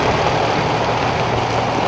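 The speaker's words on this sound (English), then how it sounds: "This is a 54, Oliver Diesel Super 88, 54 horsepower." A 1954 Oliver Super 88 diesel tractor, 54 horsepower, idling at a harvest festival: a steady, loud low rumble with even engine throb, close by and without voices.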